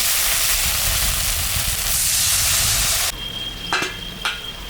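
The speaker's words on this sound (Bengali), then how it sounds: "মশলাটা ভাজা হয়ে গেছে, আমি এখন সামান্য জল দিই" A loud burst of hissing sizzle as water hits fried spices for a mrigal fish curry fills the first few seconds, then drops to a softer simmer with a couple of metallic clinks.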